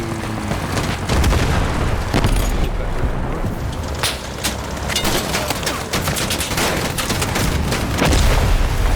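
Explosion in a video game, a loud, dense rumble of blasts and booms layered with gunfire, continuous throughout with voices talking over it.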